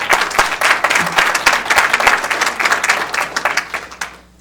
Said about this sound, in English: another round of applause for the great work that you and your team do all the time